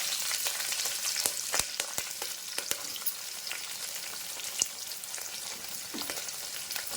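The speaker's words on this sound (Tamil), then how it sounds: "கடுகு கடலப்பருப்பும் பொரியுது." Mustard seeds and chana dal fry in hot oil, giving a steady close crackling sizzle with scattered sharp pops and spatters throughout, with no voices.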